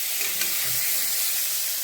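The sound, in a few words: eggplant frying in oil with turmeric and salt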